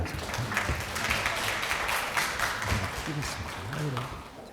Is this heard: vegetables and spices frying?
no